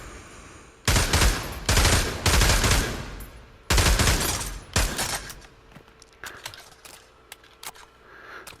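Automatic gunfire in the VR shooter Pavlov on PSVR2, loud close bursts of rapid fire in four or five long strings, followed by quieter clicks and handling noises of reloading.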